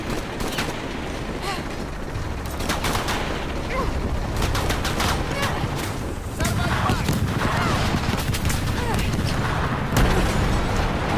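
Gunfire and blasts from a firefight in Shadow of the Tomb Raider: dense, continuous bursts of shots and booms, loud and close, with voices calling out between them.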